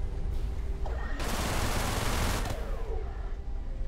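Weapons fire in the space combat game Everspace, a dense broadband burst of sustained shooting lasting over a second amid steady engine and ambient rumble, with no talking.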